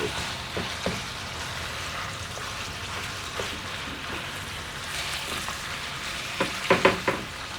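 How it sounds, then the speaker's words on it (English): Beef sizzles steadily in a hot pan with a soft continuous crackle, broken by a few brief stirring scrapes and clinks near the end. "Now we want to stir that beef before we get it too cooked up"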